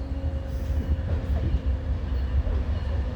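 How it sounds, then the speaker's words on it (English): Westbound port double-stack freight train rolling past, a steady low rumble of railcars with faint wheel clatter and a thin sustained squeal, moderately distant and continuous throughout. "Yeah, this is a port train"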